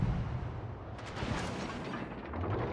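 Naval ship guns firing in World of Warships: Legends, a dense, continuous rumble of booming salvos and explosions with rolling low-end weight and a sharper burst of blasts midway, with no talking.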